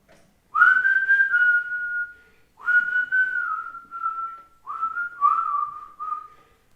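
A person whistles a short tune in four clear phrases, each a held, slightly wavering note with brief pauses between, close and alone.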